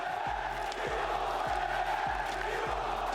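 A crowd in the Kinney Arena at an EA Sports FC 24 esports playoff roars steadily, a dense wash of cheering voices with a rhythmic low thumping beat pulsing underneath, loud and sustained.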